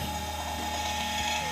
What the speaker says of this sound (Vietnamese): Đó, mọi người nghe tiếng máy in nó chạy không ạ?